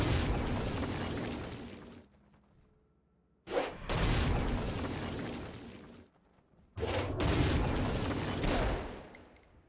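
Gunfire and explosive blasts from the video game Saints Row: Gat out of Hell, three long roaring bursts of sustained fire and booms separated by short quieter gaps.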